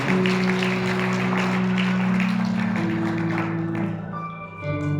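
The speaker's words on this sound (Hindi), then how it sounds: "तालियां बजाकर महिमा करें परमेश्वर के सज्जन।" A Hindi-speaking church congregation at a Sunday meeting claps hands in praise, a steady wash of clapping over loud sustained music that thins out and fades in the last second.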